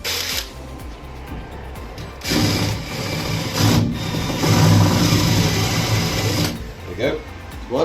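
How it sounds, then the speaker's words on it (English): A cordless drill bores through the top of a bolt head during a horsebox repair, its motor whirring steadily for several seconds and rising in load partway through, with a brief pause before it spins up again. "Let's hope my drill's got some charge in it."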